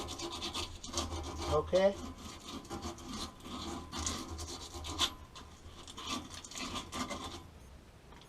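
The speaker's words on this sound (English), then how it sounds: "I'm gonna take a little sandpaper and I'm gonna smooth out the edges of my pipe." Sandpaper rubbed by hand along the cut edges of a gas pipe, a steady rasping scrape that repeats through the stretch, with a brief spoken word near the start.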